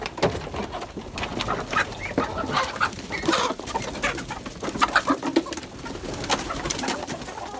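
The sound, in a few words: poultry birds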